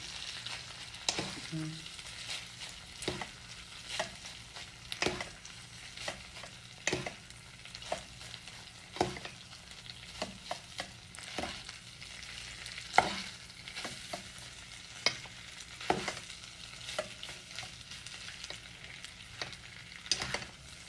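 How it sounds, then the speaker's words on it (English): Food sizzling and frying in a pan while a fork scrapes and stirs it in repeated short strokes, close up, with a steady hiss underneath and no talking. "Take my fork, mix it up."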